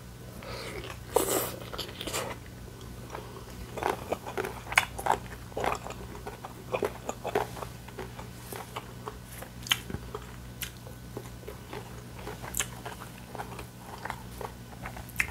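Close, quiet chewing and crunching of papaya salad seasoned with fish sauce, with repeated irregular bites over a faint steady background hum and no speech.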